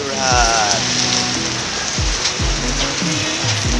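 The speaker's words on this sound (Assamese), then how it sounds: "বৰষুণ পৰি আছে।" Steady rain patters on a surface throughout at night in Mokokchung, Nagaland, with a faint voice briefly audible early on.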